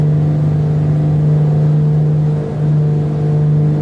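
The twin piston engines of a Beech B60 Duke in Microsoft Flight Simulator hold a loud, steady drone with a strong low hum. The drone dips briefly near the end, and there is no talk.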